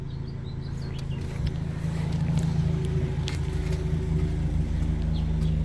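Car engine idling with an aftermarket exhaust and no muffler, a steady low rumble that holds close and even throughout.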